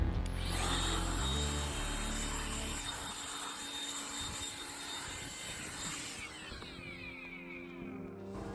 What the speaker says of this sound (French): Donc on va utiliser le souffleur et ça marche super bien.